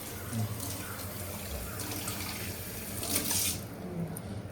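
Ulshi flower buds are rinsed in a net under running water at a basin, making a continuous close splash and gurgle of tap water with faint background sounds.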